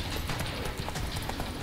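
Roach the horse galloping in The Witcher 3 video game, a steady close clip-clop of hooves running throughout over a dense game background.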